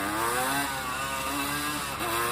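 A Honda CRM 250 two-stroke motorcycle revs hard in first gear for a power wheelie, a loud, close, buzzing engine note that holds steady with a brief dip near the end.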